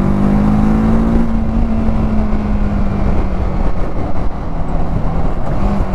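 A TVS Apache RTR 310 motorcycle being ridden, its engine giving a steady loud drone with a shifting tone, thick with wind and road noise.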